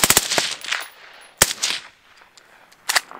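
Full-auto AR rifle fire outdoors at targets, coming as three sharp bursts of rapid shots separated by short pauses, loud and close, with no voices.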